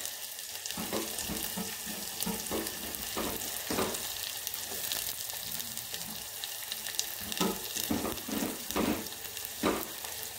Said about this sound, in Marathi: आता हे आपण आंबट वरणाला फोडणी द्यायला।